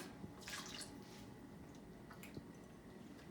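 Warm water is poured into pizza dough, giving soft wet splashing and squishing with a brief stream early on and faint drips after. It is quiet and close, with no talking.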